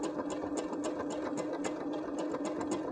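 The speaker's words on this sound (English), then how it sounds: "your machine is working backwards and forwards, and your needle is going side to side" A sewing machine stitches embroidery onto a scrap denim mat, the needle swinging side to side, producing a steady fast mechanical whir with regular rhythmic clicks, moderately quiet and continuous with no talking.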